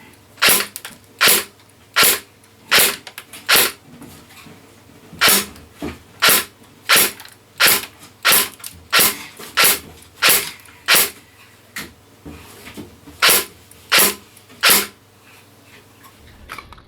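An EMG/ARES Kel Tec RDB airsoft AEG fires 0.2 gram BBs as about twenty sharp, evenly spaced single shots, close and loud, with no talking.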